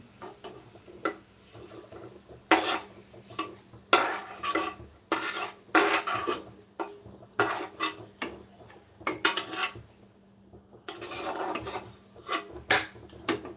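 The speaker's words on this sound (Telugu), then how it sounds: "ఇలా పుదీనాను అయితే వేయించుకోవాలి" Mint leaves being dry-roasted and stirred in a pan for chutney, heard as intermittent scraping and rasping of a spatula against the metal in short irregular strokes with quiet pauses between, close by.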